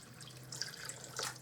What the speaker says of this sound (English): So now I'm going to just top this up with some water.